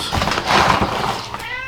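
A fat cat meows loudly and close up in one drawn-out, wavering call.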